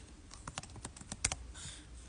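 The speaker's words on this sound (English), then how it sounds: "Let's just type 123 Main Street." Quick, close keystrokes on a computer keyboard as an address is entered, an uneven burst of light clicks with one sharper tap near the middle, quiet and without talking.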